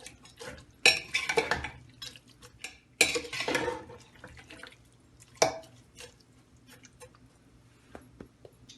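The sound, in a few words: stirring meat curry in a pot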